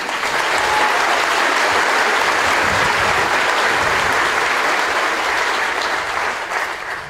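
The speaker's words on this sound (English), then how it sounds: "Please join me in a round of applause for the cadre." Audience applause for the cadre at a Fort Jackson Army basic training graduation ceremony, a dense, steady ovation from a large crowd sustained loudly for about seven seconds before easing slightly at the end.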